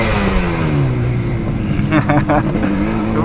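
A Yamaha RD400 two-stroke street motorcycle runs steadily nearby, its engine note wavering up and down with a short burst of revs near the end, while speech-like noise sits underneath.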